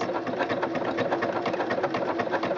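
A Singer Quantum Stylist 9960 sewing machine with a wing needle stitches at a steady fast pace, a continuous rhythmic whirring and clatter heard alone and close.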